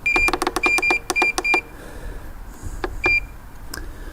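Digital timer on a smoker, set while a beef bottom round roast cooks, gives a quick run of sharp, close electronic beeps, then a pause and a few scattered single beeps over faint background noise.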